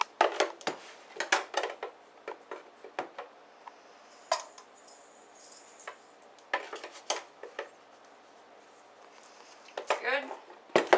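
Sugar being scooped and poured in a home kitchen, heard as a series of short clinks and scrapes of a measuring cup and utensil against a bowl, separated by quiet gaps.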